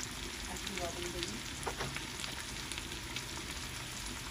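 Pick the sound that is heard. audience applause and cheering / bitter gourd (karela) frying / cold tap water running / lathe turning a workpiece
bitter gourd (karela) frying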